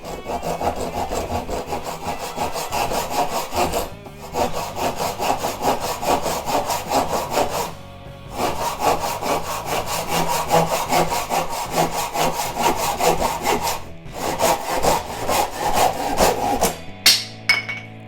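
A Stanley FatMax Japanese hand saw cuts through oak in quick, steady rasping strokes, close by, pausing briefly a few times before resuming.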